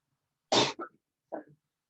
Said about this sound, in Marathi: फार खोकला झालाय.